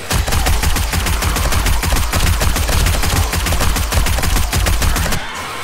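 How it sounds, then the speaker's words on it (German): Rapid automatic gunfire pours into a zombie horde in the video game 7 Days to Die (Alpha 16), a loud, dense stream of shots that runs for about five seconds before stopping abruptly. "Hier in die Masse reinballern"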